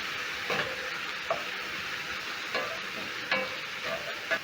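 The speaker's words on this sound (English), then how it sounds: "I'm going to stir in so that the meat and the carrots can cook together with the seasoning" Minced beef and carrots with ginger and seasoning cooking in a pan for spring roll filling, a low steady sizzle broken by a handful of distinct spatula scrapes and knocks at irregular intervals.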